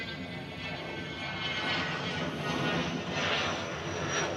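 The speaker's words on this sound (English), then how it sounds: "See you later, baby tri-jet." A three-engine airliner passes near Honolulu's airport, its broadband jet roar swelling steadily and peaking around the middle before holding loud, with no talk over it.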